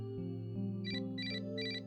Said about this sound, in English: the ringtone is coming from the old phone in his bag